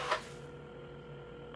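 A phone being dialed in the video game Assemble with Care: faint, sparse button tones and small clicks over a quiet steady hum, with a brief louder blip at the start.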